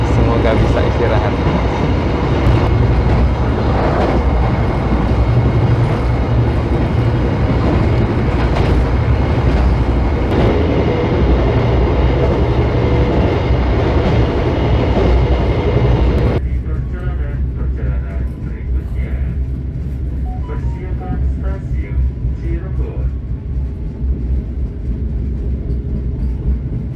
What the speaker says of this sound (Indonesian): Kereta Sembrani tiba di stasiun Cirebon 2 menit lebih awal dari jadwal.